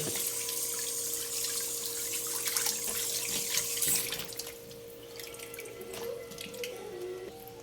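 Fresh fish is washed under a running kitchen tap, with a steady close splash of water falling into a sink. Faint handling noises come through, and the flow softens partway through.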